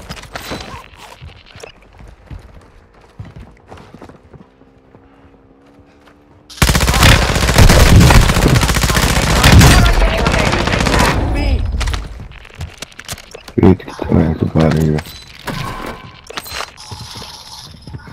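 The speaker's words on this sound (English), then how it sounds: "I'm taking fire." Call of Duty gameplay on PS5 moves from quieter footsteps and movement into a sudden, loud, sustained burst of automatic gunfire lasting several seconds, followed by scattered shots and impacts, with voices at times.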